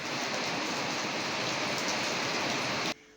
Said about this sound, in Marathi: इतका भयानक पाऊस पडतोय ना